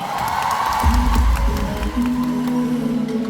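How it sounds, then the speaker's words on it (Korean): A fan concert audience cheers and claps at a moderate level while a song begins underneath, the crowd noise steady throughout. "박수 부탁드립니다."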